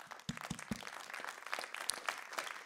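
Faint, scattered audience applause after a talk, individual claps standing out sharply against a quiet room in an irregular patter.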